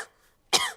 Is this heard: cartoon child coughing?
yes